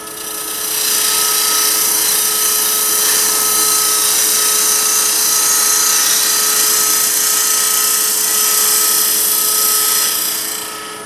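A wood lathe spins a small lidded ring box blank while a spindle roughing gouge cuts it, producing a loud, steady high whine with a constant hiss of shaving that ramps up and fades at the end.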